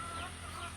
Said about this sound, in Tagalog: Ang manok nangakak